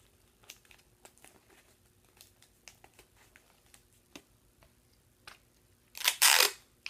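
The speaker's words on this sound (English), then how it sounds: "you take tape and secure this kunai blade, the blade, onto the handle" Tape pulled and wrapped to fix a kunai blade onto its handle, faint scattered crinkles and small ticks close by, ending in a louder burst of tape tearing or ripping from the roll.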